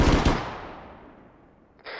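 Machine gun and rocket fire in a realistic military game, a loud close burst of shots at the start that decays into a long rumbling echo, followed by a sharp new blast near the end.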